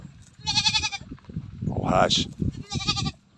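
Two pet goats, both females believed to be pregnant, bleat in loud wavering calls on a farm in the Philippines, one early and one late, with a voice speaking between them.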